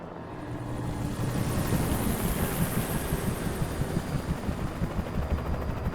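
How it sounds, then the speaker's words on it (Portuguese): A helicopter in the video game Alan Wake whirs loud and close with a steady, rapid rotor chop that keeps pulsing throughout, no talk over it. "Helicóptero."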